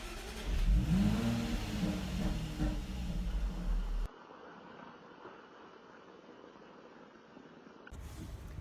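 A Ford F-150 pickup truck engine runs steadily while driving, a loud continuous low rumble with road noise that drops to a quieter hum midway, then swells again near the end.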